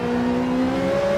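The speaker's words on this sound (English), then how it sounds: "Double downshift and the crossover" Race car engine in Gran Turismo 7 at Interlagos, a steady loud drone whose pitch climbs slightly as it revs through a double downshift, continuous and close throughout.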